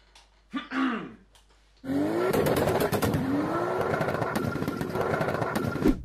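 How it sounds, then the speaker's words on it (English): Futuristic electric car sound effects are dubbed over an Audi RS drag race on snow: first a short swooping electronic whoosh, then a loud, sustained rising whine over a rough, rumbling drive. "the editor's just going to make some funny electric car sounds for the electric car"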